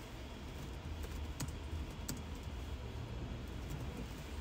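Keys clatter in quick irregular bursts on a computer keyboard as patient notes are typed into a telemedicine care system, close and moderately loud over a steady low background hum.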